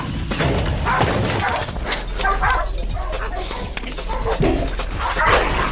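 Attack dogs bark and yip in rapid, loud bursts close by during a stunt challenge, with snarls and scuffling mixed in and voices faintly under the commotion.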